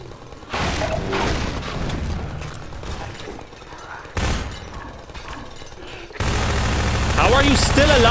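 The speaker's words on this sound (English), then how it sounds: "The turrets are fucking shooting you." Automated turrets firing in Half-Life 2 Episode One, loud bursts of rapid gunfire and mechanical clatter in several separate volleys, the last one harsh and sustained.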